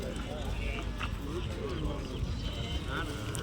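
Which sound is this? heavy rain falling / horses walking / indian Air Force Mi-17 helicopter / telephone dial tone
horses walking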